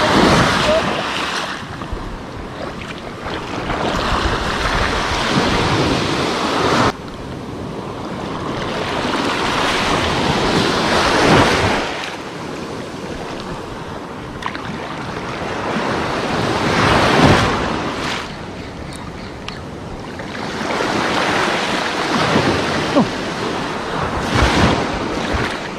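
Sudden ocean waves around a small fishing boat at sea, loud surging wash and wind rushing in repeated swells over roughly twenty-six seconds, with shouting voices at times.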